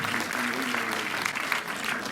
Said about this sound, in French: il faut toujours applaudir Dominique Cabrera.